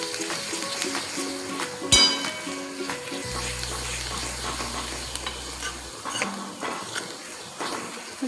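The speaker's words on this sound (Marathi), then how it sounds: "यात मी हिंग टाकून घेते थोडंसं आता। आणि याला आपण छान असं मिक्स करून घेऊया।" Asafoetida and spices frying in oil for shev bhaji, a close, loud sizzle with spoon stirring and clinks against the pan, plus a low steady hum running through the middle.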